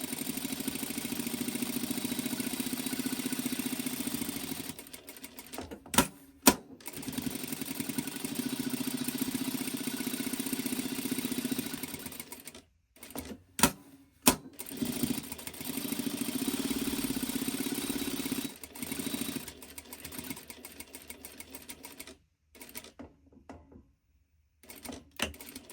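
A sewing machine runs in a long steady stitching stretch, closing the opening around a quilted pot rest, broken by brief stops and restarts with a few sharp clicks near the corners.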